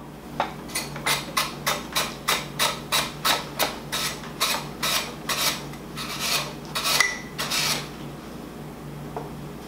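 Firm carrot sliced on a Japanese mandoline, a quick run of about fifteen rhythmic rasping strokes close up, slowing near the end, with no talking.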